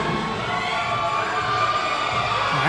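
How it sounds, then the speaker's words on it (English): Crowd at an NPC bodybuilding finals competition in Houston, a steady wash of cheering and shouting in a large hall, continuous and moderately loud throughout without breaks. "You can hear the crowd in the background."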